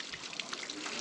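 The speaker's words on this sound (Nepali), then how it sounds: "यतापट्टि इन्द्रावती" The Indravati river flows steadily below a hillside trail on a Nepal mountain trek, a soft, continuous wash of running water heard at a distance with no talk over it.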